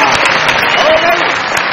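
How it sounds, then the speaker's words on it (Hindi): Studio audience on a Pakistani comedy talk show claps loudly in a brief burst, close and dense, with a voice talking over it. "बहुत सारी तालियां बजाइए मेरे भाई के लिए"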